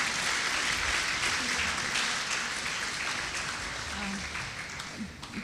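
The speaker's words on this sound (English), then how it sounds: "Round of applause, please." An audience at a Sunday temple program applauds the cook of the evening's meal, a dense, sustained wash of clapping that holds for several seconds before gradually thinning out.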